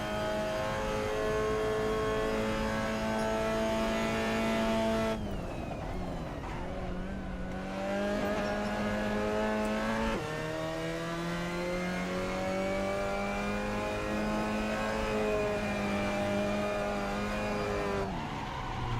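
A Lamborghini race car engine in the racing game Assetto Corsa revs loudly and continuously, its pitch climbing through the gears, dropping on shifts and braking, then climbing again, with no talking.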